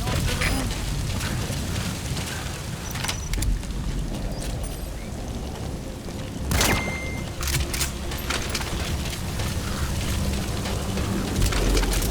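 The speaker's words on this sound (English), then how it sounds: "Sound of rainfall should help to mask your footsteps." Steady rainfall in the Metal Gear Solid V video game, a dense continuous hiss of drops with occasional sharp cracks and a distant rumble, heard alone without talk.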